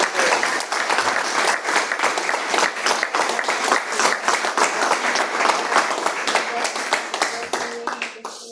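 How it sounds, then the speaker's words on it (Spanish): Loud, sustained applause from a large church congregation during a Sunday sermon, dense clapping filling the whole stretch and tapering slightly at the end. "Ese aplauso es para ti, Señor. Déselo fuerte, déselo fuerte, déselo fuerte."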